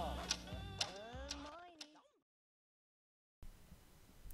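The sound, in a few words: mysterious ticking noise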